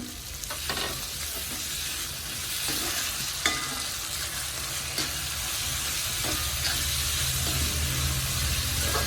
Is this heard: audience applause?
no